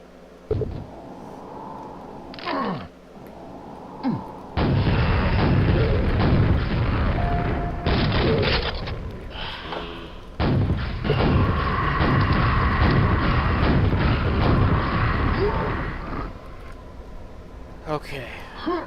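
A screw cannon fires in Quake, giving heavy booming blasts and sustained crashing, explosive bursts that swell and cut off across the stretch, with someone talking over parts of it.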